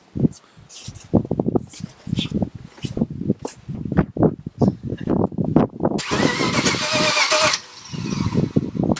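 A BMW car engine cranks and churns for a second or two amid nearby people talking, with a louder burst of engine noise near the end.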